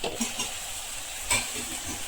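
Brinjal curry seasoned with turmeric and salt fries in a pan, a soft steady sizzle with a couple of brief scraping knocks from stirring, close and faint.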